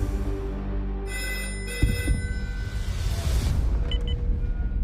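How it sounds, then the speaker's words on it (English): A telephone rings in a hospital emergency department, a steady electronic ringing tone running through the first two seconds before giving way to low rumbling room noise and a brief faint chirp. "When the bat phone goes off, with me being the operational nurse manager, I go to the phone."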